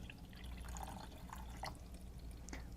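Water treated with dust and dye is poured into a Pentair Everpure water filter, giving a faint, steady trickle with soft drips throughout.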